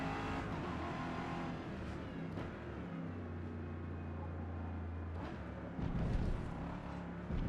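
A Ford GT race car engine roars at high revs in the Forza Motorsport 2023 racing game, sustained and loud throughout, shifting pitch as it accelerates and changes gear.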